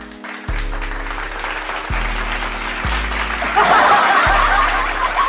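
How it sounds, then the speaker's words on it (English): Applause from a crowd, a burst of clapping with scattered chuckles and snickers layered over a recurring low musical thump, steady and fairly loud for several seconds. "And let's all take a round of applause for shitting on fucking Nami."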